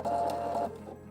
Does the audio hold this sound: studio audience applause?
no